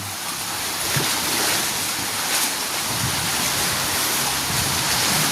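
Rough sea waves wash and surge in a steady, loud, broadband rush with occasional stronger swells, no talk over them.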